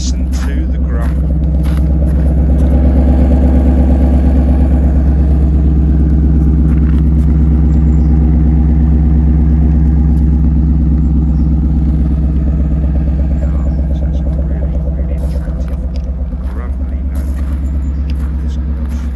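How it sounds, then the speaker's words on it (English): Ford Mustang GT 5.0 V8 coupe with a 6-speed gearbox idling: a loud, steady, deep burbling rumble held at a constant tick-over, with a slight swell in volume partway through. "Tick over for a minute, give it a slight rev just so you can hear it."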